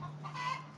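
A chicken clucking inside a chicken coop, one brief close cluck over low background hum.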